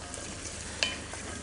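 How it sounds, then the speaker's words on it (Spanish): Potatoes sautéing with onion in a frying pan, a steady soft sizzle with one brief louder pop, no talking. "Entonces, cuando estalla la cebolla, se echan las patatas."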